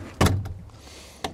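The lockable door of a Nerpa airboat's aluminium cabin gives a sharp metallic clack from the latch, a softer knock after it, and a second click about a second later, close by.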